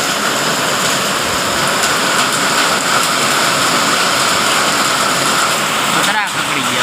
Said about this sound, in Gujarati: પતરા ખકડી ગયા બહુ વરસાદ પડ્યો ધુઆધાર બેટિંગ કરી રહ્યું છે